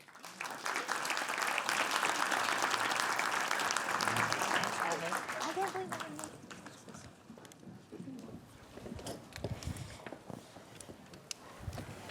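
An audience at the GBH Media Summit 2025 welcomes two guests with loud, sustained applause that fades after about six seconds, leaving scattered claps while voices begin speaking.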